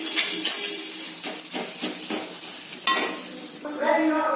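Masala is stirred and fried in a pan while cooking a country chicken curry with potatoes, giving repeated scraping spoon strokes over a crackling sizzle, close and fairly loud, ending in a brighter burst of frying.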